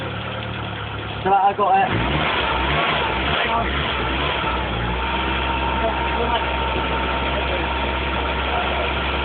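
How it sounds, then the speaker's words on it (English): A Nissan Cherry engine turns over on its first cold start, pouring out smoke, then settles into a steady revving drone that holds loud and close throughout while people talk nearby. "Keep it revving. Keep it revving."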